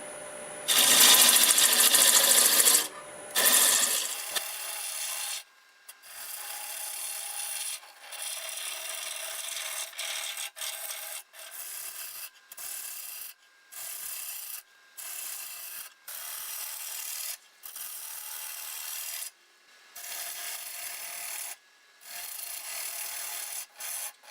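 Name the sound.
wood turning sequoia on a lathe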